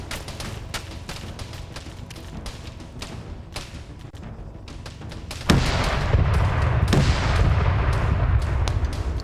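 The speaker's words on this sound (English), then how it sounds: "It has 2 frontal tank cannons." Tank cannons in a combat video game fire again and again in rapid, sharp booms, some near and some farther off, and a heavy continuous rumble of explosions sets in partway through.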